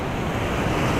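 Ocean surf rolling in steadily while fishing from a boat, a continuous broadband wash of waves mixed with wind noise buffeting the microphone, no talking.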